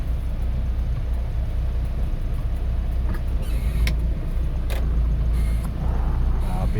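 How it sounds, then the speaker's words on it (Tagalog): Steady rumble of car engines in heavy road traffic during heavy rain, a continuous low drone with occasional brief hiss and clatter, no clear talk. "Traffic yan, ayaw ko naman dyan."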